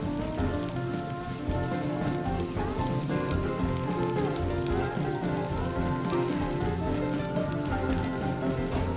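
Corned beef hash sizzles on a Blackstone griddle, giving off a steady, even hiss and crackle like light rain that holds at moderate loudness from start to finish, with no talking.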